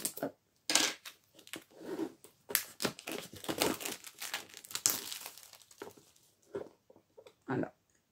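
Plastic packaging of a 28-compartment storage box being opened: close, crackly crinkling and tearing in irregular bursts, with short pauses between handling sounds.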